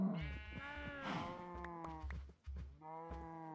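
Sheep bleat repeatedly in a blocky video game farm, with several loud, wavering calls following one another closely and no talk over them.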